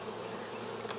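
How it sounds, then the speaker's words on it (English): Honey bees swarm around an open beehive that has been left uncovered for over half an hour, producing a dense, continuous buzzing drone close by, with no speech. "bees are starting to get a little cranky with me"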